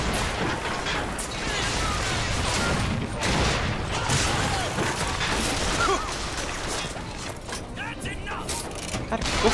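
Booming cannon blasts and crashing impacts in the game BioShock Infinite, dense mechanical clatter throughout, with a voice talking over the noise in Portuguese.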